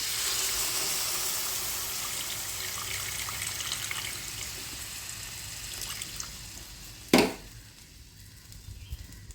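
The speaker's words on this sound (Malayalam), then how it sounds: "ഇനി നമ്മൾ അതിലേക്ക് എടുത്തു വെച്ച പുളിവെള്ളം ഒഴിച്ചു കൊടുക്കുക" Tamarind water streams into a pan of onion curry, a steady liquid pour and trickle that ends with a sharp clank of the vessel, then quieter kitchen sounds, with no talking.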